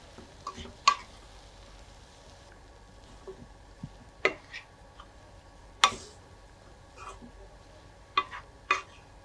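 Spiced flattened-rice vangi bath mixture being stirred in a hot pan, with sparse, irregular spoon taps and scrapes against the metal over a faint background, no talking.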